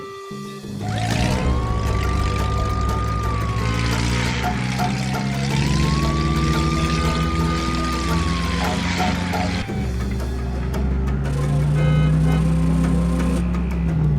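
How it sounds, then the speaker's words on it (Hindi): A cartoon car starts up and drives off in an animated Hindi comedy, its engine rumbling steadily with a rising siren-like wail sweeping over it, loud and close, with background music throughout. "गाड़ी निकालो टीनू और बाबा के घर चलो"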